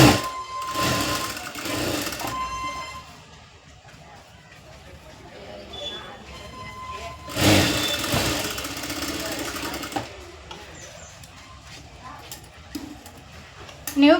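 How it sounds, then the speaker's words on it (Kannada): Sewing machine stitching around the neckline of a boat neck blouse, fast whirring bursts near the start and again around the middle, with quieter handling noises and someone speaking between runs. "ನೆಕ್ಸ್ಟ್ ಇಲ್ಲಿ ನೆಕ್ ಹತ್ರ ಈ ರೀತಿ ರೌಂಡಾಗಿ ಹೊಲಿಗೆ ಹಾಕೋರಿ."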